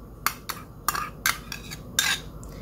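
A spoon scrapes and clinks around a pot of milk pudding with butter in short stirring strokes, about five distinct sweeps, close and fairly loud.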